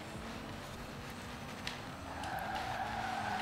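Car tyres skidding and screeching while drifting in Forza Horizon 4, a continuous squealing slide over a droning engine, rising slightly toward the end.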